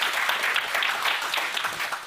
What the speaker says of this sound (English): could we give an extra strong round of applause